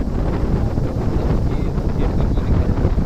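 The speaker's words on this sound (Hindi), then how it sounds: "हवा तो बहुत माशाल्लाह चल रही है" Strong wind gusting across the microphone outdoors in a village near a pond, a loud continuous rumbling buffet that fills the whole stretch without pause.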